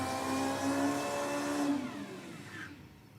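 A Holden Gemini with a turbocharged 1800 Isuzu engine revs hard in a burnout box, a loud sustained whining roar that holds high, then winds down and fades over about three seconds, with no voices.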